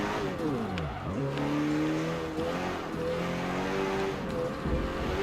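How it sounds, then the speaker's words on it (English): A turbocharged racing car engine in Forza Motorsport 7 revs and shifts up and down in pitch, with a sharp, loud hiss of the turbo blow-off valve between gear changes. "it's got a loud-ass blow-off valve"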